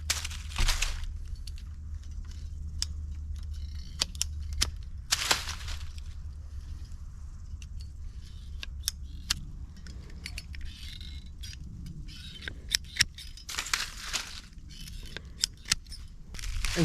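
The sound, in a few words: trimming small limbs off a cottonwood branch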